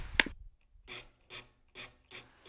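Phillips screw being driven by hand to fasten an Ecobee4 thermostat mounting plate to a wall, heard as four short, regular rasping scrapes after an initial sharp click, close and alone.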